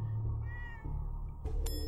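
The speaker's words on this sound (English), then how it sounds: "I heard a cat." A cat meows in Fallout 4 behind a shop counter, a few short, clear, close meows with a faint ding near the end and no talking.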